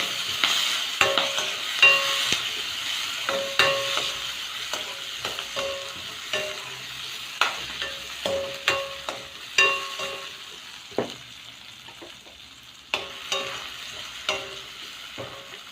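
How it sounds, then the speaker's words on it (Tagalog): Chopped garlic and bulb onions sizzle in hot oil in a pan, a steady close frying hiss broken by repeated scraping stirs and utensil knocks at irregular intervals. "I love it when I put the garlic, the oil will sound."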